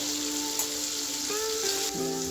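Cumin, black pepper, turmeric and red chili powder fry with tomatoes in a pan for a potato curry, making a brief, even sizzle beneath a few sustained musical tones.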